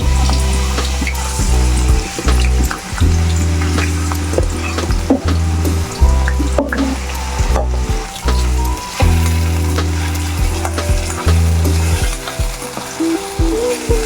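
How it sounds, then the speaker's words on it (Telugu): Small potato pieces frying in hot oil for aloo fry, a loud steady sizzle broken by repeated stirring scrapes in the pan, with no voice over it. "ఆలుగడ్డల్ని చిన్న చిన్న ముక్కలుగా కట్ చేసుకోవాలి ఈ విధంగా బ్రౌన్ కలర్లో ఫ్రై చేసుకోవాలి"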